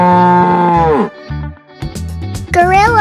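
A cow moos loudly in a long, close, drawn-out call, then short tonal bursts and a second rising moo follow in a cartoon-like animal game setting.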